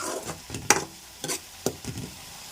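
Cauliflower and cashew curry simmers in a pan with a soft sizzle while a spoon stirs and scrapes in a few separate strokes, close and fairly quiet.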